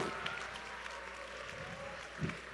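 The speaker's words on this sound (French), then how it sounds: "Une bonne main d'applaudissements, s'il vous plaît!" Faint audience applause at a food festival cooking show, a soft, even patter of many hands heard from a distance, with a low hum beneath.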